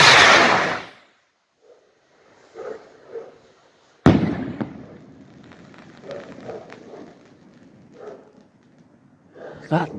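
A 122 gram Blake 7 firework rocket goes up with a loud rushing launch, then after a short quiet pause bursts with a sharp report and a spread of crackling pops that trail off, with faint voices nearby.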